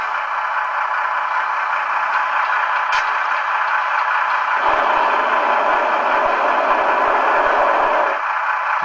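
Gas turbine sound from a model train with a Soundtraxx Tsunami decoder and twin speakers: a steady loud whine and hiss that swells into a fuller roar midway, then eases back, with no voices.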